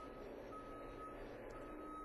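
A recycling lorry reversing while unloading at a paper mill warehouse gives a faint, steady electronic beeping tone, distant and partly lost in a continuous low industrial rumble.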